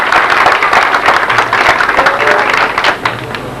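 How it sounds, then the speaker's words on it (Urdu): Congregation clapping along at a one-day Christian convention in Daherki, Ghotki, a dense, steady wash of many hands filling the space without pause, loud and close, with no clear talk on top. "آپ تالی بجا سکتے ہیں آپ چاہیں"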